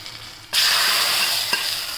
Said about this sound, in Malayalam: ഇതിലേക്ക് ഉള്ളിയും വറ്റൽമുളകും ജീര കറിവേപ്പിലയും കടുവും കൂടെ വറുത്തൊഴിക്കുക